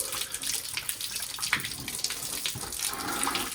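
Fluid drains from the lower radiator hose of a 1962 Dodge D200 in a steady, close, splashing stream that runs without a break, with no talk over it.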